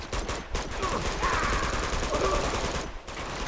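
Enemy gunfire in the video game Uncharted 2 Among Thieves: rapid overlapping bursts of shots crackle in a dense volley at moderate loudness, with brief pauses.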